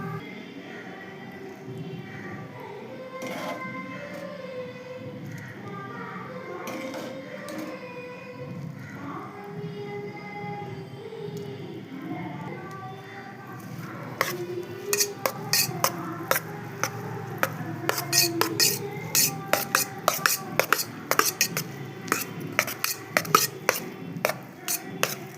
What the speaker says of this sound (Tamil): இப்போ சாப்பாட்டில் போட்டு கிண்டிடலாம்